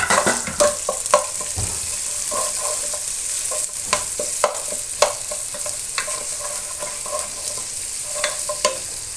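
Onions fry in a pan for a fish curry, with a continuous oily sizzle and repeated scraping stir strokes. No one speaks.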